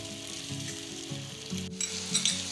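Potatoes fry in oil for a Spanish omelette (tortilla de patata), a close, steady sizzle and crackle with a low hum beneath and a brief scrape of stirring near the end.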